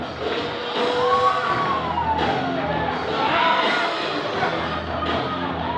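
Guests cheer at a wedding reception at The Liberty House in Jersey City as the couple makes its entrance. Mid-distance whoops and shouts rise and fall over steady party noise, with one long rising whoop standing out.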